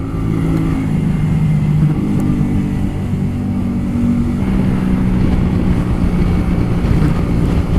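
A Honda Shadow 125 motorcycle, twenty years old with about 20,000 km, rides along a valley road in Champagne, its steady low engine drone loud and continuous under rushing wind noise.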